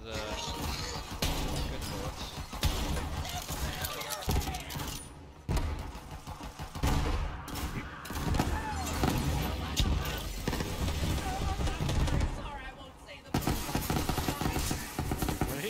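Rapid gunfire bursts from the Borderlands 3 Bounty of Blood shooter, packed densely into a loud, continuous mix of game effects and music that runs almost without pause.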